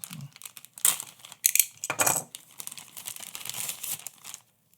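Plastic packaging around a USB cable is cut and torn open, giving several close, crinkling rips and crackles in quick, uneven bursts with no talking.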